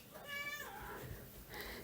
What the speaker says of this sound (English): My cat's howling to get out.